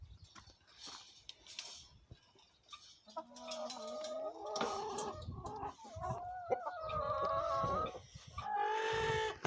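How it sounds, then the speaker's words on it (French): A Sussex hen clucks repeatedly up close in a poultry yard, tonal cackling calls rising and falling in bursts, alone with no talk. "une super petite poule Sussex de cette année"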